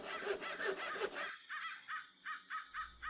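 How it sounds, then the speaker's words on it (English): Bird calls from a video game's nature setting: a run of quick rasping calls, then a slower series of evenly spaced chirps, faint and alone. "You can hear all of the sort of native bird noises you would expect"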